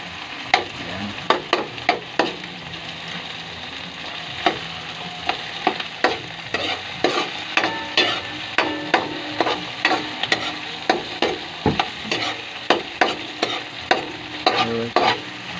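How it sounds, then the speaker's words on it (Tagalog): Tomato and onion sauté in a pan, giving a steady sizzle broken by repeated sharp scrapes and clacks of a utensil stirring, growing busier toward the end, with no voices. "Lutuin muna natin ng konti yung kamatis and sibuyas para mag-melt siya."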